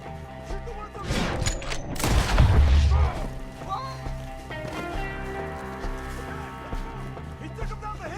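A burst of gunfire in a woodland shootout in Red Dead Redemption 2: several sharp, loud shots crowd together with a heavy low boom early on, then the scene settles into quieter sustained game music and ambience.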